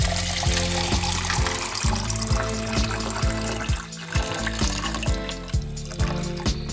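Water pours into a container of watermelon seeds, a close, gurgling stream with rhythmic glugging pulses, as from a jug, that continue steadily for several seconds.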